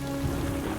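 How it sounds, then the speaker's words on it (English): Steady rain falls in the Southern Alps near a crumbling cliff, a dense, continuous hiss of drops on surfaces, loud and unbroken for the whole brief moment. "But the rain isn't stopping."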